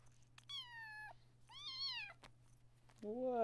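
A pet cat meows close by, two clear drawn-out meows followed by a lower, rougher third, with quiet room hum between them.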